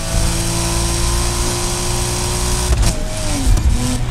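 A Volkswagen Golf in Need for Speed Heat, nitro charged, holds a steady droning engine note, then shifts and revs upward near the end, loud and close, with no speech.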